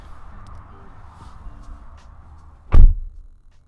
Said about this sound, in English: Okay, so shutting the door on the TRD.